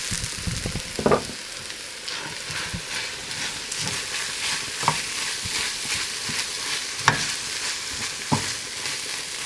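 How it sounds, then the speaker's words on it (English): Sloppy joe meat with sauce and melted cheese stirred in a pan, a steady close sizzle broken by several sharp spoon scrapes and knocks against the pan. "Let me stir in the other one now."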